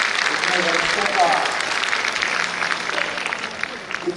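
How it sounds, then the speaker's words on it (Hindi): Loud, sustained applause from an audience at a poetry recitation honoring Atal Bihari Vajpayee, a dense, even wash of clapping that fills the whole stretch without pause. "एक बार जोरदार तालियां"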